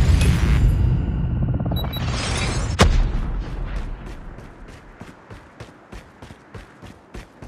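Automatic gunfire aimed at a robot in the mobile shooter Call of Duty Mobile: one sharp boom, then a steady run of rapid, evenly spaced shots over a dense, noisy battle background.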